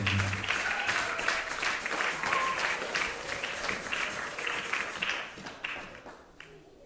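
A church congregation applauding in a continuous burst of dense, steady clapping, loud and close, fading near the end with a few scattered claps.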